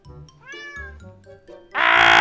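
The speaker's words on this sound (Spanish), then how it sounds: "Le pusimos una trampa para que llegue otro gato." Video-game cat meowing several times in short tonal calls, close and clear, followed by a louder burst of bright game sound effects at the end.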